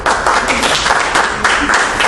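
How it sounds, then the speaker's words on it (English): A live audience gives applause for Rick Scott as he is called down to join the speaker, dense steady clapping filling the room throughout with a loud, even texture. "A little applause for Rick."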